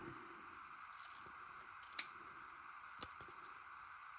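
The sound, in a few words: scissors cutting paper for a collage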